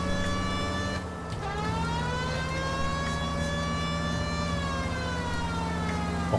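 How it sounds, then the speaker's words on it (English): Police car siren in the video game L.A. Noire wails continuously at a steady level, with a short dip where the pitch shifts, no talking over it. "I completely forget what the button is for the siren."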